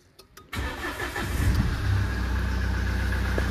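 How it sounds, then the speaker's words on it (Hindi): A car engine cold start: a few starter clicks, then the engine catches with a burst and settles into a steady, loud, rumbling idle, close by. "और इसको करते हैं कोल्ड स्टार्ट"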